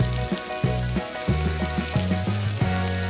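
Green onion, garlic and Italian seasoning cooking in a pan for cornbread dressing, with a close, continuous sizzle and frying hiss broken by repeated stirring knocks and scrapes.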